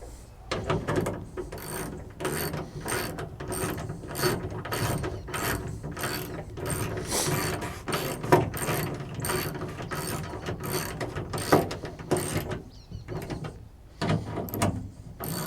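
A hand ratchet tightens tailgate latch bolts on a 2002 GMC Sierra pickup, clicking in quick repeated bursts of strokes with short pauses between, close and clear with no talking.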